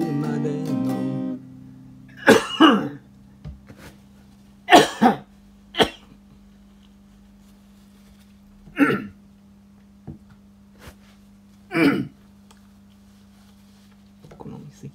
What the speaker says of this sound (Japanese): 咳払いとか結構大きい音で拾っちゃうんだよ。